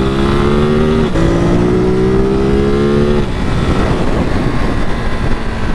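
A Ducati Monster 937 motorcycle engine runs while riding, a loud, steady close-up drone whose pitch climbs, breaks off briefly near the one-second mark and climbs again before settling into a rougher roar.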